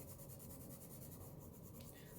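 Black chalk is swatched across paper, giving a soft, steady scratchy rub that runs continuously and faintly up close, with no voices.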